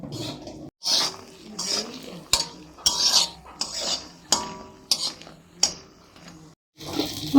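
A utensil stirs fried lentil dumplings (bori) in a pan while lunch is cooked on a rooftop, giving a run of about eight separate scraping and clinking strokes close by, each followed by a short pause.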